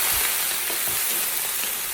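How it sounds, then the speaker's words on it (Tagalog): Dense continuous sizzle of vegetables and chicken stir frying in a hot pan for chilli chicken, loud and close with faint scraping pulses. "I'll keep stir frying these veggies"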